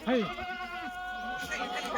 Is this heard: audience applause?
no